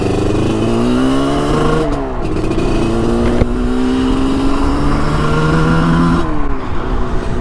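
A 1981 Yamaha RD350 LC two-stroke motorcycle engine revs loud and close, its pitch climbing and dropping in repeated sweeps with a steady buzzing drone and no talking.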